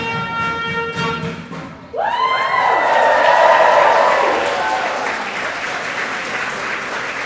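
Audience applause for the band at a grad student union general membership meeting, as loud dense clapping swells in after a brief trailing musical tone and carries steadily to the end.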